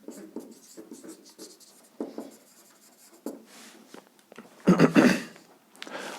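Pen strokes on a board during a maths lesson on finding a matrix inverse: short, scratchy bursts of writing come in irregular clusters, with a louder, denser stretch of strokes near the end. No one speaks.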